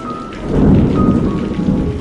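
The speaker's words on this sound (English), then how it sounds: "an extremely huge storm struck" Heavy rain pours down during a huge thunderstorm, with a deep rumble of thunder swelling beneath the steady loud hiss of rainfall throughout.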